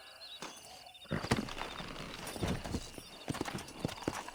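A horse's hooves clip-clopping on the ground in Red Dead Redemption, irregular nearby hoofbeats of a mount starting off and moving at a walking pace, with faint background game sounds.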